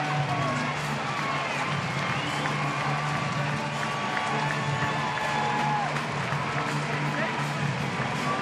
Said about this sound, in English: Reaction from the crowd.